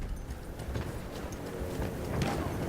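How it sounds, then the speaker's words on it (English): An enemy cavalry horse gallops in a war video game, a soft, steady patter of hoofbeats under ambient battlefield noise, fairly faint and distant. "Here comes that horse again. I can hear him."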